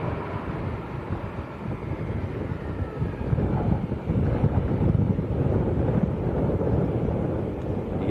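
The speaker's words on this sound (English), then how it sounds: "it is a pretty strong crosswind at the moment" A strong crosswind gusts across an open airport and buffets the microphone, a loud, rough, continuous rush that swells in the middle and stays constant, with no voices.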